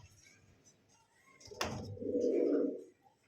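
A pair of pigeons coos once at close range, a single soft rolling call following a sharp clack, with faint background noise and no talk.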